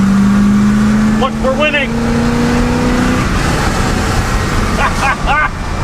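A pickup truck with a swapped-in boat motor accelerates with a droning engine note that climbs in pitch. Passengers talk over the engine throughout.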